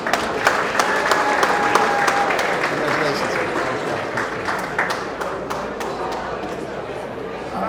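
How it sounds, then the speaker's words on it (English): Crowd at a Greek-American Hellenism awards ceremony applauds for AHEPA, a steady wash of clapping with sharp individual claps and some murmured chatter beneath, gradually thinning toward the end. "A round of applause for AHEPA"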